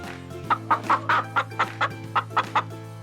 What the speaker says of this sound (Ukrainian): Тепер послухаємо курку.